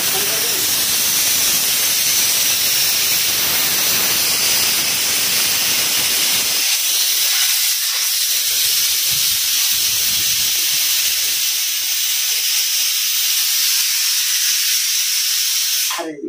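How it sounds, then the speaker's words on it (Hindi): A pressure cooker cooking dal on a kitchen stove lets out a loud, steady whistling hiss of steam that runs for over fifteen seconds before cutting off at the end. "कुकर 3-4 सीटी दे चुका है, क्या इसमें दाल है?"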